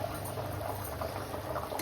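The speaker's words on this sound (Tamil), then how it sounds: "தண்ணி வந்து நல்லா கொதிச்சிருச்சு" Water bubbles at a rolling boil in a cooking pot for chicken biryani, a dense, continuous simmering rumble heard close up without any voices.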